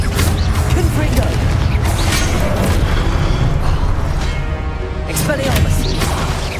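Confringo blasting curses in Hogwarts Legacy burst with repeated booms and crashes amid whooshing spell effects and other loud game noise.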